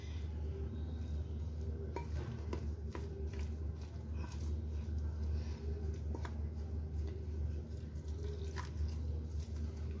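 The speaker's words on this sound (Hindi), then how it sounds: "सबको मिक्स करेंगे और थोड़ा थोड़ा पानी डालते हुए एक पेस्ट तैयार करेंगे।" A spoon stirs jowar flour batter in a bowl as water is added bit by bit, giving soft, faint, irregular clinks and wet squishing sounds across a quiet kitchen background, with no one talking.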